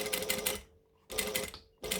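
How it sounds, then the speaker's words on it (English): A sewing machine back stitches across zipper tape during a garment sewing tutorial, running in two short close bursts of rapid stitching separated by a brief pause, with a third burst starting at the end. "Back stitching."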